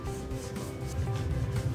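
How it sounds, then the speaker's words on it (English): A sandpaper block made from a piece of styrene rubs steadily against a pattern-making workpiece, a close, continuous scraping rasp with soft rhythmic strokes. "We even made a sandpaper block out of a piece of styrene just so you could wrap it around something if you needed to sand something."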